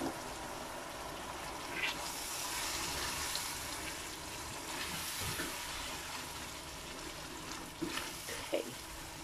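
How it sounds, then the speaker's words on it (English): Water poured into a simmering mince curry, a soft steady wash and sizzle of liquid hitting the hot pot, with a few clinks near the end. "Okay, I'm going to add some more water."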